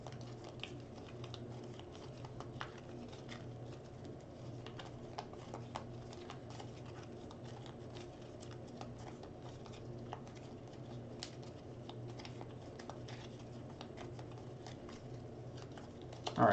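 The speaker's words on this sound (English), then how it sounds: "So let's get some shuffling going on." A deck of playing cards being shuffled for a solo tabletop board game, soft continuous riffling and patter at moderate distance with faint bird cooing in the background.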